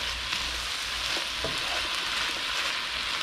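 Tuna and vegetables stir-fry in a hot pan with a steady, dense sizzle, close and loud, with a few scrapes of stirring and no talk.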